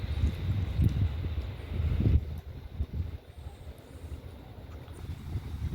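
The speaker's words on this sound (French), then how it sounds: "la pluie s'est calmée, le vent s'est levé et il fait chaud" Night wind blows after rain at an old hilltop fort on a Caribbean island, with low, gusty buffeting that swells in loud rushes and then eases into a softer steady roar.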